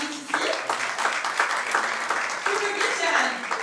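At a jazz festival press conference, an audience applauds an invited artist. The clapping is moderate and sustained, with some voices mixed in.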